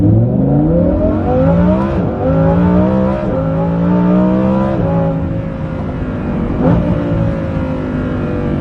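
Lamborghini Huracan Performante fitted with a Kline exhaust accelerating hard, its engine note climbing in pitch through several rising sweeps with brief drops between gear changes, loud and close throughout.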